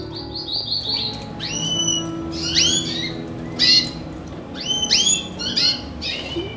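A male canary sings lively bursts of bright trills and chirps, repeated in quick phrases over a steady low hum in the background.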